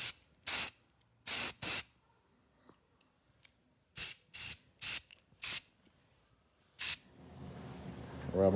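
Short hissing bursts from a spray paint can coating a Wilton baby bullet vise, several quick blasts spaced apart with pauses between, close and fairly loud, followed by a duller rushing noise at the end.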